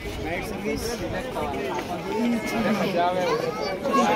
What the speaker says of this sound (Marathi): चला, गर्दी बघा, गर्दी बघा, भरपूरच गर्दी आहे